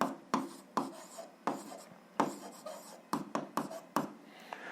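Pen on paper writes out algebra work in a close series of short, scratchy strokes, each with a sharp start, coming in irregular bursts with small pauses between.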